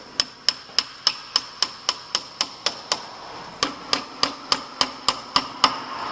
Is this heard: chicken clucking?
no